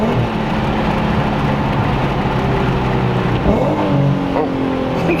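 Infiniti Q50 with a 3.7L engine and an aggressive tune drones loudly from inside the car, engine revs shifting slightly as it downshifts under steady road rumble.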